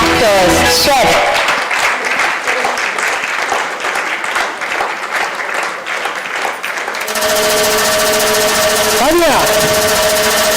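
An audience applauds senior superstars over 50 called onto a stage: dense, loud clapping runs for about seven seconds, then stops abruptly and gives way to a voice and sustained electronic tones.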